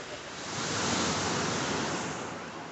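Ocean surf rolls in at the Kamaole beaches in Kihei, Maui, a broad steady wash of breaking waves that swells slightly and holds, with some wind noise and no talk.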